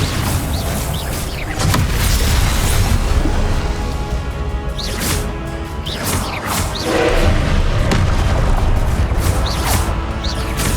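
Incendio and Expelliarmus spells cast in the Hogwarts Legacy video game: repeated whooshing magic bursts and crashing impacts land in quick succession over a loud, busy combat soundscape.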